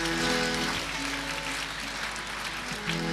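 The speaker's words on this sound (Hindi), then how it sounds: "अपनी जोरदार तालियों से आज के दिन का ये आगाज करते हैं।" Audience at a Diwali morning celebration at Pandav Bhawan applauding steadily, a dense wash of clapping that stays even throughout with a faint hum beneath.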